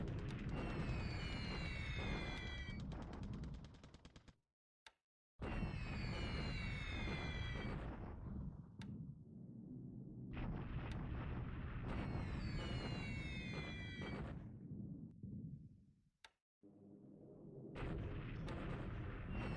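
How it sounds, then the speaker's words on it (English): Repeated heavy booms and rumbling blasts from a bombing raid in the War in the Pacific strategy game, with long loud bursts that break off briefly and then resume, dense and continuous with no talk. "the purpose of these bombings is to soften this target up"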